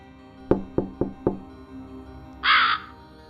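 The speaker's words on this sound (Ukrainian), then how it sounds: "Крук голосно стукнув у шибку і протяжно каркнув" Four sharp knocks in quick succession on glass, followed by a short pause and then a loud, drawn-out raven caw, close by.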